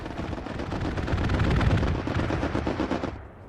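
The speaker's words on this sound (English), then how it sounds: "No, it's a strafe run." Rapid aircraft machine-gun fire from a strafing run in the Hell Let Loose WWII game, a dense fusillade of booming shots rolling together and peaking midway, then cutting off near the end.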